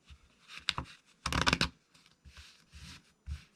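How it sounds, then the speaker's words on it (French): Riffle shuffle of a deck of playing cards, a quick dense burst of flapping card edges followed by softer handling rustles, close and moderately quiet with no talking. "je vais battre mes cartes. Hop, on va faire un petit mélange américain"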